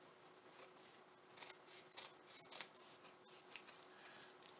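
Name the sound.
scissors cutting craft material in half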